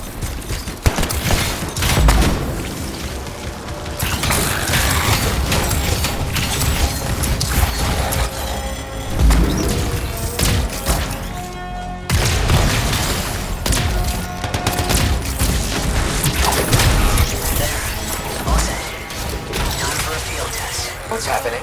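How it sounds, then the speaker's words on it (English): A trap of canisters explodes in the Anthem video game, loud, dense blasts and rattling gunfire-like bursts with mechanical clanks running continuously, and voices heard faintly in the mix. "It'll be a contained explosion."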